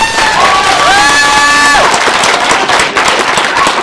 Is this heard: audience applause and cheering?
yes